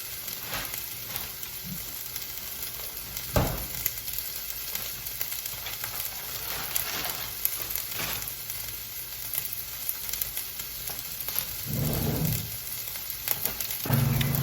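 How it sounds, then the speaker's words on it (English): Peppers and onions sizzle steadily in a hot pan, a continuous crackling hiss with occasional louder spatters and stirring noises. "One of my favorite sounds is the sizzle of food sauteing and simmering"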